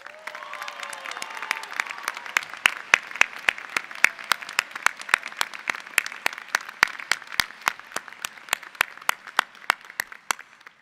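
An audience at the Northwestern Pritzker School of Law Class of 2022 convocation claps in steady, sharp applause that lasts the whole stretch, with distinct individual claps standing out in a moderately sized crowd.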